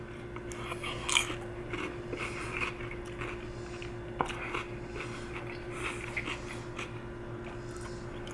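Someone bites into crunchy cucumber dressed with lime, salt and Tajin, giving quiet, close crunches and chewing spread over several seconds beneath a steady low background hum.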